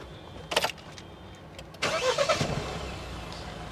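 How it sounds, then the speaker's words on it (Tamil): A brief click, then the 2.2-litre diesel engine of a Mahindra Bolero Neo Plus SUV cranks and catches, settling into a low steady idling rumble close by. "என்ஜினோட ரம்பிள் வந்து நம்ம கேட்கும்"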